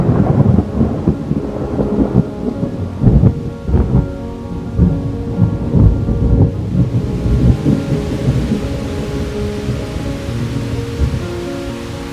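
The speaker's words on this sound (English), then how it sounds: "this is real thunder" Real thunder rolls and rumbles through a steady rainstorm, loud deep booms swelling and fading over constant rain hiss, then settling into a lingering low rumble.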